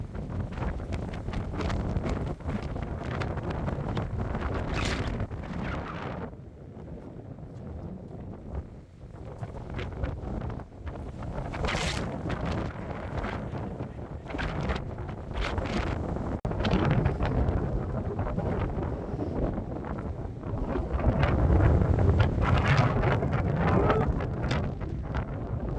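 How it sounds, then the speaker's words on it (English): Hurricane-force winter wind batters a mountain fire tower in Colorado, roaring and buffeting the microphone in loud, uneven gusts that continue without a break. "Strongest wind I've ever felt. That is just hurricane force winds up there."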